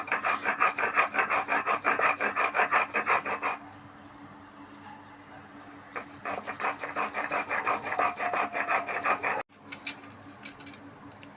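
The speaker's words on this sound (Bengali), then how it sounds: "লাস্ট এটুকু বেটে নেবো।" Drumstick flowers ground into a paste on a grinding stone, with rapid rhythmic rasping strokes in two long bursts separated by a quieter pause, close and loud.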